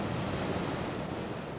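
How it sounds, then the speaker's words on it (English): Ocean waves breaking as a steady, dense wash of surf noise, continuous and even throughout with no distinct individual crashes and no voices. "Waves break differently depending on the shape of the seabed."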